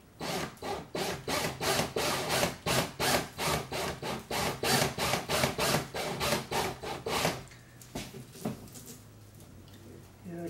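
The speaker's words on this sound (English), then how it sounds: "Yeah, I can see I'm not getting much wax on the tape." Wax is rubbed onto tape in quick, rhythmic back-and-forth strokes, loud and close, about a dozen scraping passes that stop near the end, leaving quieter handling noise.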